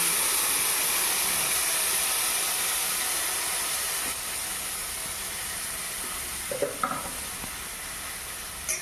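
Marinated raw fish hits a hot wok, producing a loud, steady hiss of frying that eases slightly midway, followed by a few close clatters of a utensil stirring near the end.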